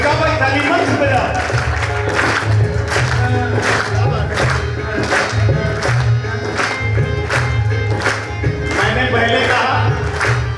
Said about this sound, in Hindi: ऐसी बजाओ ताली